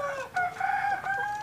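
Bangkok and KUB chickens clucking at close range, a quick run of nasal, rising calls with a brief crow-like cry, loud and clear against a faint background.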